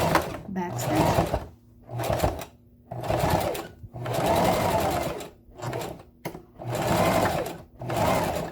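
A sewing machine back stitching a simple handbag, running in repeated bursts of rapid mechanical whirring separated by short pauses, close and clear, with someone speaking briefly in between.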